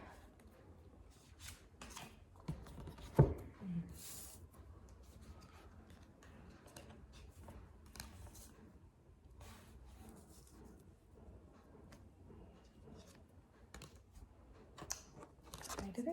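Oracle card deck being shuffled indoors, a run of soft papery riffles and crinkly card slaps with one sharper snap, mixed with light handling noise and occasional quiet talk.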